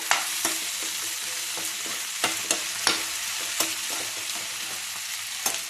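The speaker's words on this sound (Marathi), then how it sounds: "आता या कांद्यात आणि त्याच्यात हे कारलं चांगलं 10 मिनिटं परतून द्यायचं." Bitter gourd and onion stir-fry in a pan under a constant loud hiss, broken by regular scraping clacks of a spatula every second or so.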